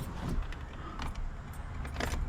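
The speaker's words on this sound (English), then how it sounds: "Oh, keys in, ignition's on." Car keys jangle in a short, close burst of metallic clinks as they go into the ignition of a Ranger with a freshly revived engine, with a few faint clicks and shuffles before and after.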